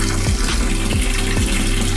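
Water gushing fast out of a freshly reopened filter into a betta fish tank, a steady close rush of flowing water with faint repeated low knocks underneath, no voices.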